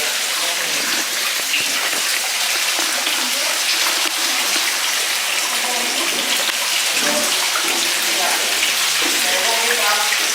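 Fish splash and churn up bubbles in a pond, making a constant, loud, dense fizzing and sloshing of water, with a voice faintly underneath.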